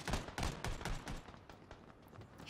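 Rapid bursts of gunfire in a PUBG duo battle royale match, a dense run of loud overlapping shots and thumps at close range, with no talking.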